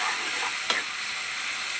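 Onions, mint and curry leaves sauté in hot oil in a pan for mutton gravy, giving a steady, even sizzling hiss, with one brief utensil clack partway through.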